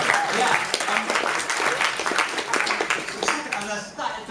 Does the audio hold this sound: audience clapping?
yes